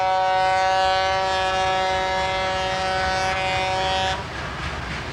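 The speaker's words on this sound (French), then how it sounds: "Les trains de Cannes, les seuls chemins de fer du pays" A loud, sustained train horn blares for about four seconds on a sugar-cane railway, then cuts off, leaving the rumble of the rolling train.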